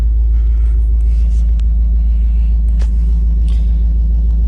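A Shelby truck engine idles cold, a steady low rumble holding even and loud from start to finish with no revving.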